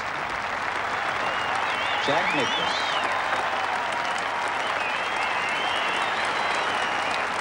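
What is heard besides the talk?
audience applause at golf's Open Championship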